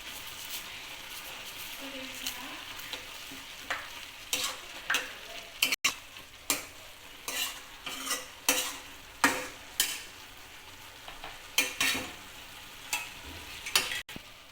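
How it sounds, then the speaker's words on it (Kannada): Shavige uppitu, vermicelli cooking in a pan, gives a faint soft sizzle while a spoon scrapes and taps the pan in repeated close, irregular strokes, with no talking. "ಶಾವಿಗೆ ಹೇಗೆ ಕುದೀತಾ ಇರಬೇಕಾದ್ರೆ ಸಕ್ಕರೆನ ಸೇರಿಸ್ಕೊತಾ ಇದ್ದೀನಿ"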